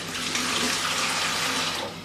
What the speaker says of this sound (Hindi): मैं आप लोगों के सामने फिर भी थोड़ा सा पानी डाल देती हूँ